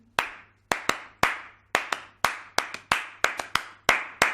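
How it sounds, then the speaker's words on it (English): Flamenco palmas: crisp, sharp hand claps in an uneven rhythmic pattern, about a dozen strikes over four seconds, close and loud with no talking. "Flamenco traditionally is guitar and voice and palmas, which is hand clapping"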